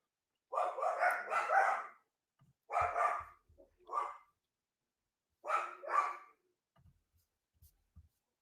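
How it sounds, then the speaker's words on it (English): Dogs bark in short bursts, a cluster of rapid barks followed by a few more spaced out, fairly close, with quiet gaps between. "So apologies for the dogs."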